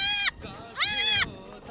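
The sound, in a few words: goat bleating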